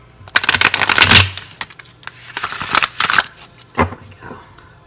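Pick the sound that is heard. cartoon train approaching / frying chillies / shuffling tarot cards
shuffling tarot cards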